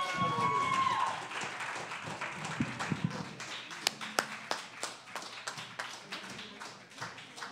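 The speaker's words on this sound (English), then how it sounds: "please give a huge round of applause to Zeda Stew." A small crowd at the Dayton Poetry Slam claps for a poet taking the stage, scattered, uneven hand claps following a brief voice, thinning into sparse individual claps and taps.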